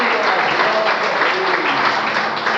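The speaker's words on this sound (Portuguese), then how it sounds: "As palmas são para Jesus." A church congregation at an evangelical service applauds loudly and steadily, a close, continuous roar of many hands clapping that fills the whole stretch without letting up.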